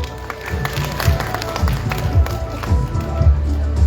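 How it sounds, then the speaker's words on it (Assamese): Audience applause for the contestants at a Rabha traditional dress pageant, Miss Rasong Sini Dorai, held at Dudhnoi: steady crowd clapping that keeps going throughout, fairly loud, with voices mixed in. "আমাৰ এই 10 গৰাকী প্ৰতিযোগীলৈ এটা হাত চাপৰি দিয়ক"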